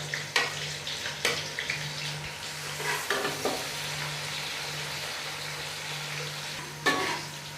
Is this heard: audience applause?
no